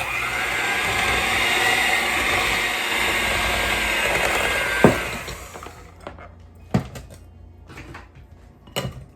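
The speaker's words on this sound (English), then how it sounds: "I'm using the hand mixer to mix it up, and it's going to become crumbly." Electric hand mixer running on low through gluten-free milk bread dough, a steady close whir for about five seconds that cuts off, followed by scattered clicks and knocks of the beaters against the bowl.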